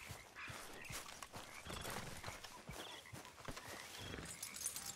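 Steady clip-clop of horse hooves at a quick pace in Red Dead Redemption 2, with an occasional whinny, over a busy, continuous game backdrop.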